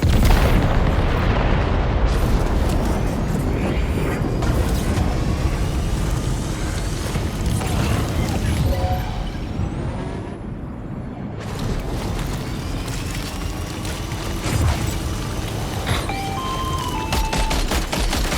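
Dense, continuous gunfire and booming explosions from a battle in the video game Death Stranding, loud and sustained throughout with rapid bursts layered over heavy rumbling blasts.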